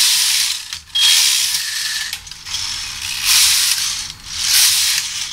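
A knitting machine knits rows of slant lace, its lace carriage and main carriage sliding back and forth across the needle bed. Each pass makes a loud, airy mechanical swish with ratcheting clicks, in about three sweeping bursts with short pauses between.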